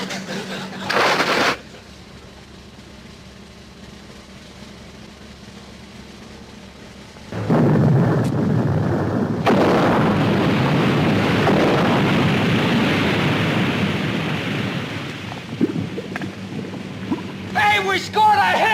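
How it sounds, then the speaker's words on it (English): Depth charges fired from a naval vessel in a 1960s sitcom scene: a brief burst, then after a lull a loud, sustained rumbling roar of underwater explosions that churns on for several seconds, with faint crackles at the end. "Fire depth charges!"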